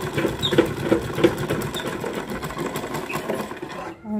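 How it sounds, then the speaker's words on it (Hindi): A sewing machine stitching a salwar, a rapid steady mechanical clatter with rhythmic knocks, close and fairly loud, ending abruptly near the close. "इसमें डबल सिलाई आप कंप्लीट कर ली है।"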